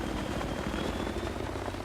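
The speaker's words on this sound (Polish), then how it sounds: "teraz przeczekamy aż ten helikopter sobie odleci" A military helicopter in the video game Battlefield 3 flies away, its loud rotor and engine drone filling every moment as a steady, dense roar with no other sounds.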